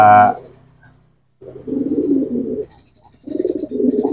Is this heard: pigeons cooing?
yes